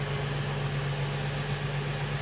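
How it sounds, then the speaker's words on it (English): Car with a rebuilt stroker motor of about 300 horsepower idles at its exhaust, a steady, loud low drone with constant hum and no change in pitch. "Exhaust note."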